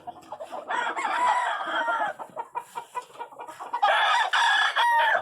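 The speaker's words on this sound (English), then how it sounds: "Nice Gerard crowing on there." Game rooster of Gerard breeding crowing up close in a brood yard, two full crows with clucking and scattered fowl calls between them, loud and clear with no talk.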